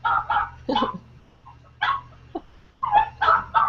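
A dog barks and yips in short bursts, several sharp barks spaced unevenly with brief pauses, fairly close.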